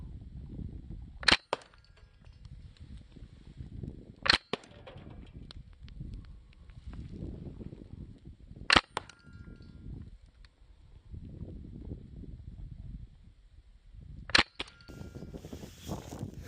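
Four sharp, loud .68 caliber airgun shots ring out at irregular intervals, each a crisp snap standing well above a low rumbling background, with no talking.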